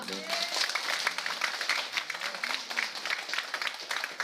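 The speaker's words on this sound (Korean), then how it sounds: "우리 한번 격려의 박수로 좀" Church congregation at a Presbyterian Sunday worship service claps in encouragement for a choir's men's section, a soft scattered round of applause under a speaking voice.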